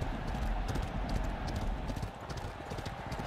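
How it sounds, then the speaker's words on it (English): Racehorses galloping in the PS5 video game Phar Lap, a dense, steady drumming of many hooves close by throughout, with a brief faint whinny and a race commentator's voice barely present underneath. "Fogborn Office pushing past horses"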